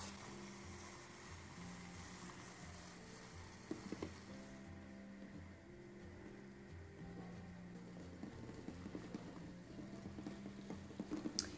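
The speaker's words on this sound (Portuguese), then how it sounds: "eu vou deixar esses ovos aqui fervendo, cozinhando por 7 a 9 minutos" Quiet bubbling and soft rattling of eggs in water at a rolling boil, with occasional faint clicks and taps from the pot.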